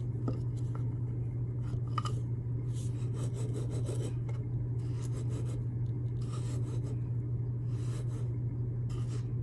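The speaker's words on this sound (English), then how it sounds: "I'm gonna try using this one to kind of grind it up a little more." Herbal powder is ground by hand in steady, close scraping and rasping strokes over a constant low hum.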